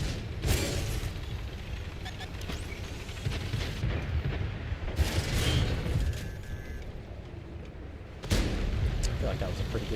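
Heavy tank cannon blasts in World of Tanks, three loud booming shots spread across the stretch, each a sharp broadband crack over a constant rumbling battlefield bed.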